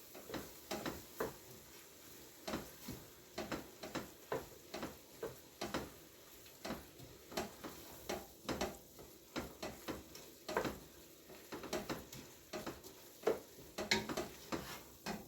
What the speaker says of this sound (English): I'm going to stir all of that first.